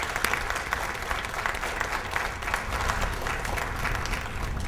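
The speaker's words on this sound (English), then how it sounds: "please join me in giving them a round of applause" Steady applause from an audience honoring school district staff at a student awards ceremony, dense clapping holding evenly throughout with no voices over it.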